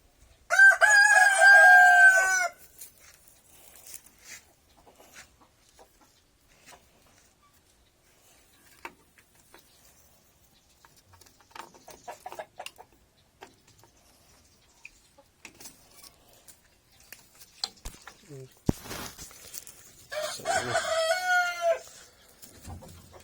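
A Rhode Island breeder rooster, kept with a Rhode Island White Leghorn hen, gives a loud close crow at the start, then a second crow later among scattered clucks and faint farmyard shuffling.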